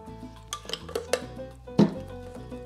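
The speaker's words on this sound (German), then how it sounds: "Ich versuche jetzt mal den Deckel abzumachen, um euch das zu zeigen." The lid comes off a container of homemade tortilla dough in a kitchen, with a few clinks and knocks and one firmer clatter, close by and against quiet.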